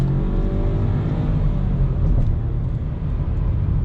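A 2020 Volkswagen Polo 1.0 TSI Comfortline accelerates, heard from inside as a steady, moderately loud engine hum and road rumble that builds gradually, with no talking.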